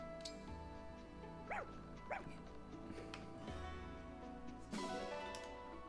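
Puppy barking in the Fire Emblem Engage video game: two or three sharp, close yips in quick succession and another bark near the end, over quiet game music.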